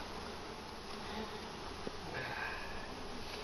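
Honey bees swarming around an opened hive in an apiary, a faint steady droning hum with occasional louder passes close by, no speech.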